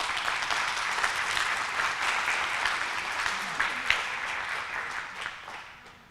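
An audience at the Roane State Honors Forum 2024 bursts into sustained applause, a dense wash of many hands clapping that holds steady and then fades out toward the end.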